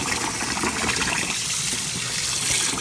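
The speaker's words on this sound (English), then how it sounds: "So I'm washing the rice." Rice is washed by hand in a pan of water, giving a steady, close wash of swishing and trickling liquid with no talking.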